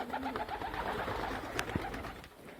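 Breeding pigeons coo softly and close by, a few low, rounded calls over a quiet background.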